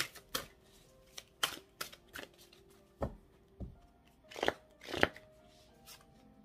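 Tarot cards shuffled by hand for a reading, giving scattered sharp riffles and slaps of card on card, about nine distinct bursts with quiet gaps between, close and clear with no talking.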